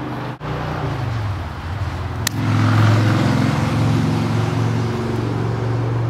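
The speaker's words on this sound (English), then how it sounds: "I really hope this camera mic doesn't pick up all the cars driving by." Cars driving by outside, a continuous low road rumble that swells as a vehicle passes nearby, steady and moderately loud with no talking.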